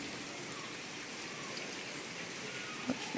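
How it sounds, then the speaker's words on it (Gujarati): Light monsoon drizzle falls steadily and softly on the ground outside, a faint, even patter with a couple of small drips near the end and no voices. "ધીમો ધીમો વરસાદ ચાલુ છે."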